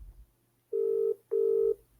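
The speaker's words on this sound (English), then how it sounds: "I'm going to phone my actual office number" Two steady electronic phone tones sound while an office number is dialled, one short and one slightly longer with a brief gap between, clear and alone.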